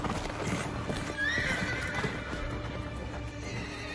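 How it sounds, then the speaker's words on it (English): Horse hooves clip-clop close by as a horse is ridden away, and a loud whinny rings out partway through over a busy outdoor background. "Let's get away on the horse here"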